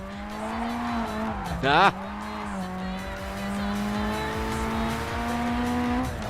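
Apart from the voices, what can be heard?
car with 4A-GE engine in video game JDM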